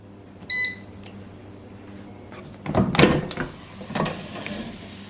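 An air fryer beeps, then a door clicks shut and a dial or button clatters before a soft mechanical whir begins.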